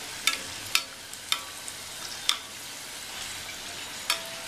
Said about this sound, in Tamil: நல்லா எண்ணெயை வந்து இது மேலே எடுத்து எடுத்து இப்படி ஊற்றி விடலாம்.